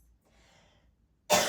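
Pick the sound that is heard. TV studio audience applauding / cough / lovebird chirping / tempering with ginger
cough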